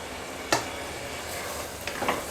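Whole garam masala spices hit hot oil left over from frying okra for bhindi chicken, giving a steady soft sizzle with a couple of sharper crackling bursts and a stir or two, no voices.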